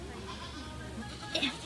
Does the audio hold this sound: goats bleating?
yes